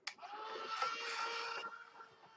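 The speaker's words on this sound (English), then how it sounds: "So I'm just going to hit this with my heat dryer for a bit." A heat dryer blows steadily on painted sticker artwork for about a second and a half, a close, loud broadband whoosh with a hum, then it cuts off, leaving quiet room tone.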